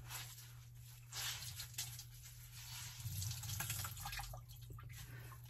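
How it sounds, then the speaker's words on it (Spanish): Water drains and drips out of a cut PVC pipe in a leak repair, with faint irregular trickling and patter close by over a low steady hum, and no talking. "Estoy escurriendo bien el agua acá."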